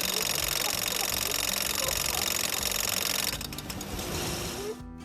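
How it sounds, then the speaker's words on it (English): A car engine makes a harsh, rapid mechanical rattling that hammers away continuously like a jackhammer, close and loud, then drops off and fades near the end. "My engine sounds like a jackhammer."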